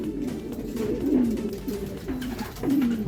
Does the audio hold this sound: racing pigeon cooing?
yes